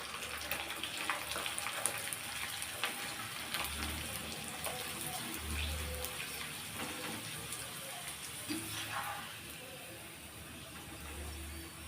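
Snacks (crispy vathal-style fritters) deep-frying in hot oil give a steady, soft crackling sizzle with a faint watery hiss, continuous and close throughout, with low thumps of handling underneath.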